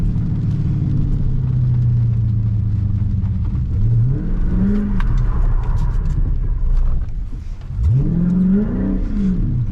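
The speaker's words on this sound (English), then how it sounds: "Drifting every turn you take in the hood" A Dodge Charger Scat Pack engine drifting on a wet road in the rain, a loud close exhaust drone that rises into two sharp revving sweeps, over a steady rumble.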